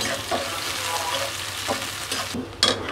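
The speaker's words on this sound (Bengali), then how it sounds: "আমি পেঁয়াজ কাঁচামরিচ ভাজি করতেছি" Onions and green chilies frying in a pan, a steady close sizzle with occasional stirring scrapes and a few sharper clinks near the end, no talking.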